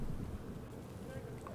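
Wind buffeting a microphone outdoors at a shire horse show, low rumbling gusts that thump and roar throughout the short moment.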